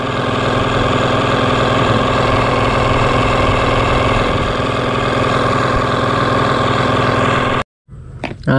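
An electric seed and fertilizer spreader runs at its standard speed on a farm, giving a loud, steady mechanical drone and hum that holds constant for most of the stretch, then cuts off abruptly near the end with a few faint clicks.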